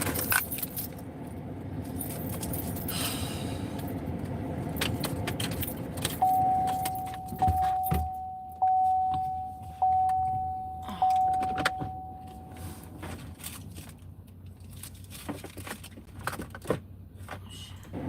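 Keys jangling inside a truck, repeated metallic clinks and rattles over a steady vehicle hum, with a sustained electronic chime tone sounding for several seconds midway and occasional thumps, no talking.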